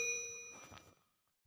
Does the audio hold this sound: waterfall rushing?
no